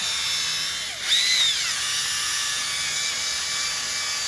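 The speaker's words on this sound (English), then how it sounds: "You want to keep the drill speed, try to keep them high." A power drill whines steadily at high speed, with a brief pitch shift as it bites into material, then continues its constant buzzing hum.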